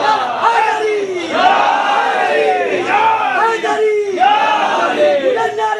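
A large crowd at a Shabbedari religious gathering in Chowk, Varanasi, India, chants religious slogans in loud, rising unison calls that repeat in waves several times, close and forceful.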